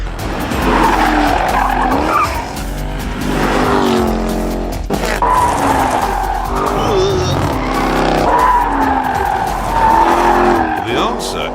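A Jaguar XE Project 8 slides on a track in track mode with traction control off, tires squealing loudly and continuously over a roaring engine while someone talks throughout.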